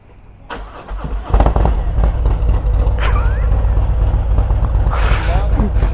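Harley Davidson motorcycle engine starts after about a second and keeps running at a steady, moderately loud idle, with people talking over it.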